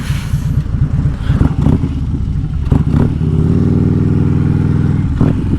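A Harley-Davidson Street Glide motorcycle engine rumbles loud and close with a deep idle pulse, blipping in short revs before settling into a steady, throbbing drone.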